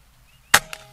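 A Gamo Coyote Whisper .22 caliber air rifle fires a single sharp, close shot, followed a moment later by a fainter second click or snap.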